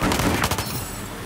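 Gunfire from the video game Squad rattles out in a quick, loud burst of overlapping cracks and booms that trails off into rumbling noise.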